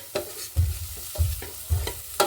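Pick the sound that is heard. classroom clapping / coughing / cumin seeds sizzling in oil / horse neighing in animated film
cumin seeds sizzling in oil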